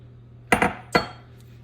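A few close clinks and clatters of dishes, pots and pans being handled during kitchen cleanup after baking banana bread, three sharp knocks in quick succession over a low hum.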